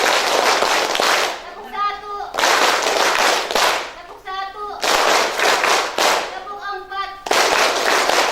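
A group claps in unison during a health-post community session, loud bursts of rhythmic clapping alternating with short gaps where voices speak.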